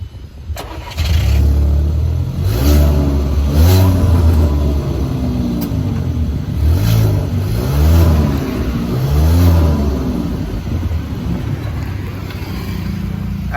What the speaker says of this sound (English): let's do a startup check, like the sound check of the car